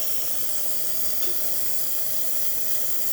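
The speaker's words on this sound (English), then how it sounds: "And now we're gonna test the steamer. And as you can see, steams perfectly fine." An Olympia Cremina espresso machine's steam wand hisses steadily and loudly at close range, a continuous rushing spray with no pauses and no talking.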